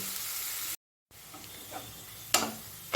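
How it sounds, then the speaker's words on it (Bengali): Onions sizzle steadily in a pan over a medium gas flame, a broad hiss broken by a brief silence and then occasional sharp ticks and stirring scrapes. "পেঁয়াজটা আমার ভালো মতন ভাজা হয়ে গেছে"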